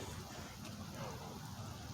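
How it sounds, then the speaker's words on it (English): Light rain falls steadily outdoors near a football stadium in Japan, a faint even patter with no talk over it. "let's get out of the rain so I don't ruin my camera"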